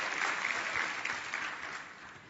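Applause from the audience at a congressional caucus plenary session, a steady, dense wash of many hands clapping that holds fairly even for a couple of seconds with no talking.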